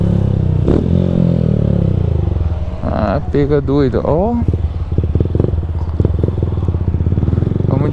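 A Honda CG Fan 160 motorcycle with a new exhaust idles loud and close, then is revved in a few quick bursts and settles back to a steady, throbbing idle while someone speaks briefly.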